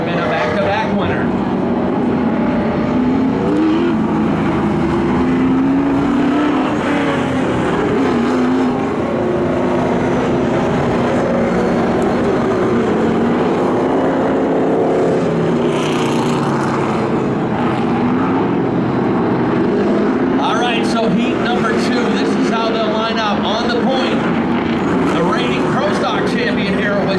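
Late model race cars roaring around Wiscasset Speedway during a Coastal 200 heat, a steady loud engine drone under continuous race commentary.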